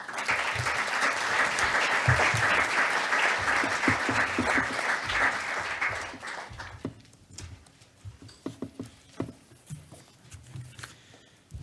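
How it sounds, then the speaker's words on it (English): Audience applause for the president of the Swiss Confederation at a formal conference, a dense roar of clapping for about six seconds that thins into scattered individual claps and fades out. "Please give him a round of applause, please, Mr. Ignacio Cassis."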